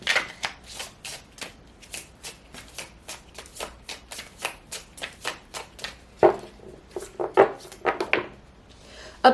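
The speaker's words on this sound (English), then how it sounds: "Let's pull some oracle cards and see if we can get some more messages from this reading." Oracle cards being shuffled by hand in quick, rhythmic riffles and slaps, close and crisp, continuous for several seconds with a few heavier snaps toward the end and no talk.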